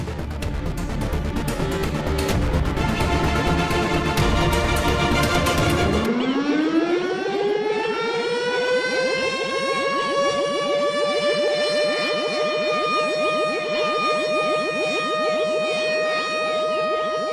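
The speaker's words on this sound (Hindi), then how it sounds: "ये उनका चेतावनी सायरन है" Loud, continuous warning siren that rises in pitch after a burst of harsh noise, then holds a steady wailing tone.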